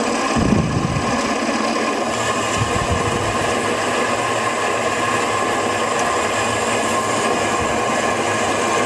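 A milling machine runs an 8.5mm drill held in a collet, boring holes into a steel vise. It makes a steady, continuous grinding whir that stays loud and even throughout, with no voices.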